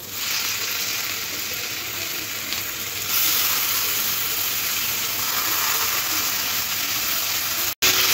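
Chicken pieces sautéing with onions in a pan give a steady close sizzle and hiss that grows slightly louder midway, continuous and alone with no talk, ending with a brief clatter.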